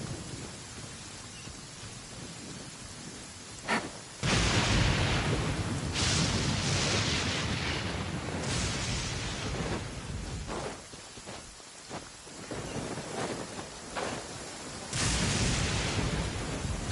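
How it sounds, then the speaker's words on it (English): Steady heavy rain hisses throughout in the Genshin Impact game world while rolls and cracks of thunder swell and fade several times, loud and enveloping with no voices. "It's raining again?"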